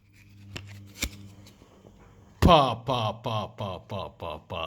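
Dragon Ball Goku Super Saiyan 4 shiny collector card being flipped and handled, a sharp snap followed by a run of rhythmic crinkly rustles, close and fairly loud with no talk.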